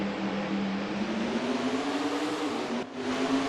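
Race car engines droning behind the pace car in the NASCAR Racing 2003 video game at Iowa, a steady, loud engine hum with a slowly rising pitch and a brief dip near the end.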